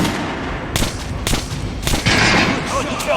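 Gunfire from weapons aimed at a target dummy on a shooting range in the video game Metro Last Light, several sharp shots ringing out over a dense, noisy game backdrop.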